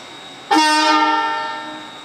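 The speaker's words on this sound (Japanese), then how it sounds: "回送電車が発車します。" Tobu 30000 series train sounding its horn as it departs Narimasu station, one loud sustained tonal blast that starts abruptly and slowly fades, heard alone.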